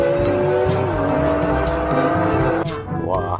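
A race car, apparently a toy or game vehicle, squeals its tires and revs loudly with a steady engine tone that dips in pitch, then cuts off abruptly near the end.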